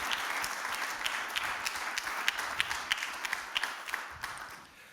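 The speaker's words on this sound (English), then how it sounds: "I think we deserve another round of applause for all of us and the facilitators" An audience at a policy summit session gives a steady round of applause, a dense wash of many hands clapping at moderate loudness with a few sharper claps standing out.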